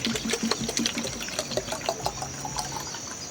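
Liquid foliar fertilizer pours into a drum, a steady splashing trickle with small irregular gurgles running close by for the whole moment, with no talk over it.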